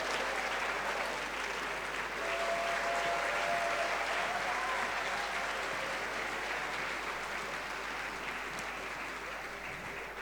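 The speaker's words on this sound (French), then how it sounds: "Cap-Vert sous vos applaudissements, s'il vous plaît." Sustained audience applause at an African group gala at UNESCO, a dense, even roar of clapping from a large hall that holds steady for about ten seconds before easing slightly.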